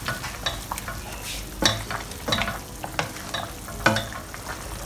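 Ginger chicken frying in a wok with a spoonful of sugar being mixed in: close, repeated scraping and clacking strokes of a utensil over a soft, steady sizzle, with no speech.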